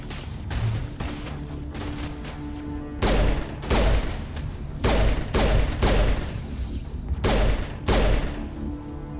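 Pistol gunfire in the video game Mass Effect, on the Geth attack on Eden Prime: a run of loud, sharp shots in an irregular rhythm, about a dozen, some clustered in quick pairs, over a steady game ambience.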